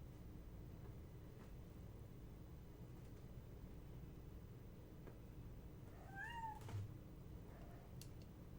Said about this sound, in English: This is the kitty. It's pretty cute. Even though it meows a lot.